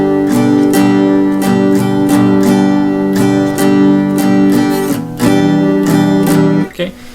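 An acoustic guitar strums a steady 1, 2, 3, 4 pattern of chords for a worship-song lesson, loud and close, with regular rhythmic strokes, a few quick muted strums and a final scrape near the end.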